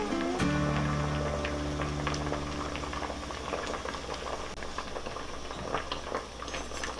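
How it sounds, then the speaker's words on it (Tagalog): Crabs boil in a pot with a steady, close bubbling and gurgling of liquid, a low hum beneath it at the start, with no voices. "Ngayon pong kumulo na itong ating crabs"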